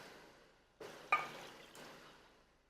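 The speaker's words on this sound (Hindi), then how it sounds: "और थोड़ा सा पानी भी ऐड कर देते हैं इसी के साथ ही" Water poured into a pot of yogurt during home cooking of a Pakistani-style keema dish, heard as a couple of quiet splashing pours with soft liquid trickling, close and alone.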